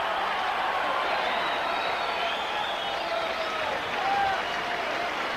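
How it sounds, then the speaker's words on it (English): Boxing crowd at the Las Vegas Hilton applauding after a brawl between Julio César Chávez and Tony Martin, a steady, distant wash of clapping and cheering that holds evenly throughout. "Crowd showing its appreciation here at the Las Vegas Hilton."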